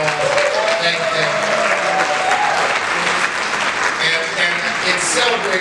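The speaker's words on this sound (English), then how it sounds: "give them a warm round of applause, thank them." A large gathering gives a warm, sustained round of applause, thick continuous clapping filling the room at full volume, with a few voices and cheers faintly mixed into the roar.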